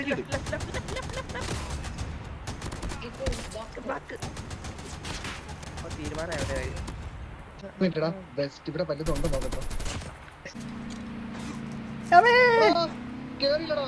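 Rapid bursts of Call of Duty: Mobile gunfire from Desperado and SMRS weapons crackle and pop, dense at first and then sparser, mixed with electronic effects and people speaking over it.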